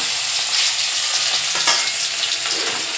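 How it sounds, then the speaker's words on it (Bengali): Fish coated with salt and turmeric frying in hot oil in an old kadai, giving a steady, loud, continuous sizzle and crackle throughout with no talk over it. "মাছ ভাজছি"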